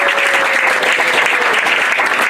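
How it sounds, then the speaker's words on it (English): An audience claps steadily and loudly for a volunteer named Amanda as she comes up to the stage, dense applause filling the whole moment without pause. "Everyone give Amanda a round of applause."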